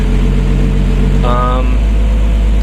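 A 1980s Clark airport tug with a plow runs after a cold start, its engine idling loud and low with a steady throb and a brief rise partway through, heard close up.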